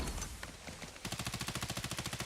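Call of Duty Mobile gunshots at a competitive esports match, fairly faint: a scattered shot or two, then a steady rapid burst of about a dozen evenly spaced rounds.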